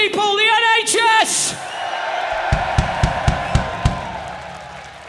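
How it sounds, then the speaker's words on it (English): A festival crowd at the Bloodstock 2021 metal festival roars and cheers after a shouted call from the stage. The broad wash of noise is punctuated by a series of sharp drum hits. "let's have a cheer for these people, the NHS!"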